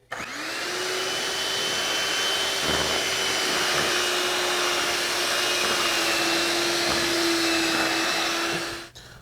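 Electric mixer beating rum cake batter until smooth, a loud, steady motor whine that runs unbroken for several seconds, starting and stopping abruptly, with no voices over it.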